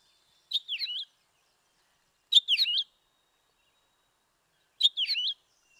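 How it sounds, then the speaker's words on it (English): Three short, high, twittering calls from a purple finch in a winter setting, spaced a couple of seconds apart, each a quick cluster of notes, clear and close against silence. "And then our purple finch has a very unique call."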